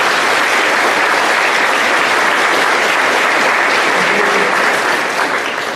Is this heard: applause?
yes